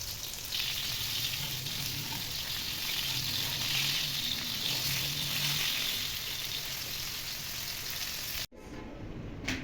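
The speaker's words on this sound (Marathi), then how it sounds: "आता आपण मस्त फ्राय करू, शॅलो फ्राय." Coated Bombil (Bombay duck) fish shallow-fry in oil with a loud, steady, close sizzle that holds for several seconds, breaks off sharply, then resumes more faintly, with no one talking.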